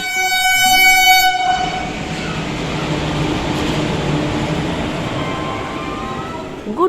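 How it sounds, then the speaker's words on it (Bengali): A train horn blares loudly at Barrackpore station in India, then cuts to a broad rumble of rolling railway cars and platform ambience, with a brief knock near the end. "আমি এই মুহূর্তে বসে আছি ব্যারাকপুর স্টেশনে"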